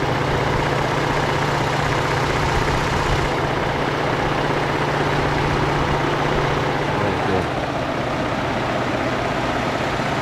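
2013 Ford F150 with a 3.5L Ecoboost engine idling under the hood, a steady loud drone carrying a constant mechanical whine and ticking from a noisy high pressure fuel pump, heard close and unbroken.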